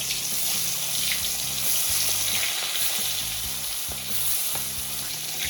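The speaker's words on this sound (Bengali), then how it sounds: "এবার দিয়ে দেবো একে একে মাছগুলো।" Lata fish slide into smoking-hot oil and fry with a loud, continuous crackling sizzle, steady throughout with no talk.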